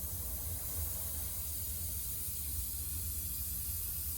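A continuous, even airbrush hiss sprays paint steadily without pause on an RC Hawker Tempest model, soft and close, over a low background rumble.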